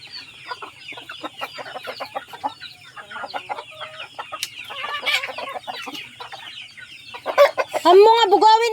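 Sick chickens cluck softly in a scattered, busy chorus that grows louder toward the end, where one bird lets out a louder drawn-out squawk.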